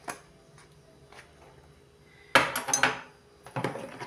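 A spoon stirs chicken with seasonings and mayonnaise in a bowl, giving close scraping and clinking in two short bursts after a quiet stretch.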